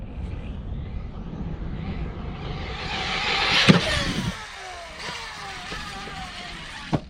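A Typhon 6S RC car's electric motor whines and revs up as it launches off a ramp jump, the sound swelling to a loud peak and sweeping in pitch before a sharp landing knock.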